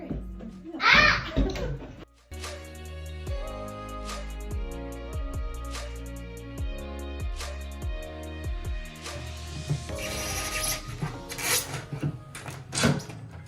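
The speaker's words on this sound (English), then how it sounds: "I'm using a chisel." A chisel pries staples out of wood during closet demolition, with repeated sharp metallic snaps and scraping clicks at an irregular pace, close and loud, while people talk and exclaim in between.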